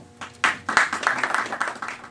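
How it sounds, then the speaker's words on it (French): Brief audience applause at a political meeting, scattered claps building quickly into a denser round of clapping over about two seconds, moderately loud in a hall. "Si vous voulez bien applaudir pour lui."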